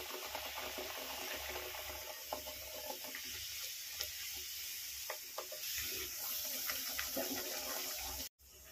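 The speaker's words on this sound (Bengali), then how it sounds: "তেলটা গরম হয়ে গেছে। এখন দিয়ে দিব পুরি।" Puri frying in hot soybean oil in a wok, a dense continuous bubbling sizzle close up and fairly loud, with small crackles throughout and an abrupt cut near the end, with no talk.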